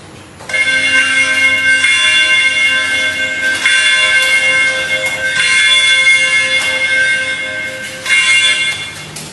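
A bell rings steadily and loudly with a sustained metallic ring, swelling in a few pulses over a low background rumble.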